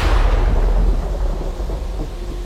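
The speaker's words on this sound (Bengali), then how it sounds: "সঙ্গে সঙ্গে একবার বিদ্যুৎ চমকালো।" Thunder rumbles loudly and close during a storm with lightning, a deep rolling boom that slowly fades over rain hiss, staged as a drama effect with no speech.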